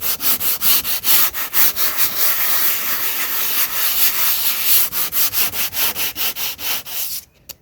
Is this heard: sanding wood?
yes